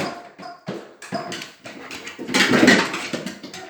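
A dog playing fetch, heard as scattered close taps, scuffs and paw shuffles in quick irregular bursts, with one busier, louder scramble near the end and no talking.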